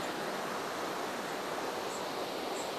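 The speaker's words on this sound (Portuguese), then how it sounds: "Cachoeira." A waterfall at a new riverside camping spot pours in a steady, dense rush of broadband noise that holds an even loudness throughout, with no voices.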